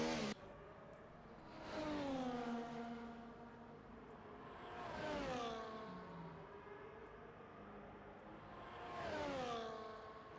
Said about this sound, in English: As the field begins to form back up under the safety car.